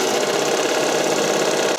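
A serger sews a lettuce edge hem on spandex for a figure skating dress. The machine hums continuously and loudly at close range, a dense, steady mechanical whir with no pauses.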